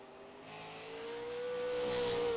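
A Super Late Model race car in a sim racing game accelerates along a time-trial lap, its engine tone rising steadily and growing louder with a clear whining pitch.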